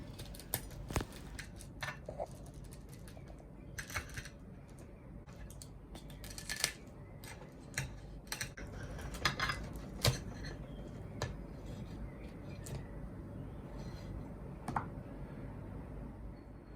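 A homemade mini Chicago-style deep dish pizza, crispy-bottomed and made with Caputo Pizzeria flour, is sliced into pieces, giving scattered crisp cutting crunches and clicks at close range over a low background hum, with no talking.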